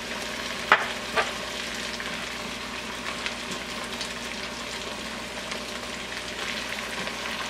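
Onions, carrots and celery sweating in butter with salt and pepper in a soup pot, giving a steady, close sizzle and crackle throughout, with a couple of sharper clicks near the start and no talking.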